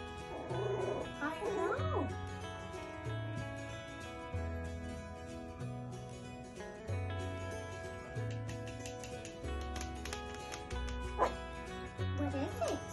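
Puppies barking in a steady run of short, repeated yaps mixed with occasional whimpers, fairly close, while a person speaks briefly over them.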